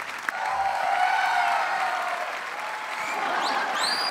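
A studio audience at a televised comedy show breaks into sustained, dense applause that stays loud throughout, with a couple of whistles rising near the end.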